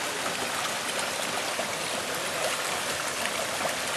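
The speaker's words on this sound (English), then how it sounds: "And all the shivlings are over there and under the water." Water flowing steadily over shivlings at a temple site, a continuous close rushing trickle without pauses or talk.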